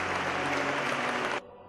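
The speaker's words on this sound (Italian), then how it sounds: "Quando le bare entrano nella cattedrale scrosciano i primi applausi." Applause in a cathedral at a funeral as the coffins are carried in, a thick, continuous wash of clapping from a large crowd that stops abruptly near the end.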